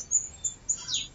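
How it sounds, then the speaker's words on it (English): A bird singing in a garden on a Sunday morning, giving a few faint, high chirps at a distance over quiet background. "can you hear a bird singing?"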